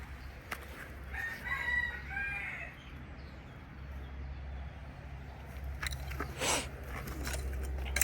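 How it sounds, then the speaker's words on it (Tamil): A rooster crows once in the distance early on in a garden in Germany, then clucks and scratchy fowl noises come closer and louder over a low background hum. "கோழி கத்துது கேட்குதா எல்லாருக்கும்?"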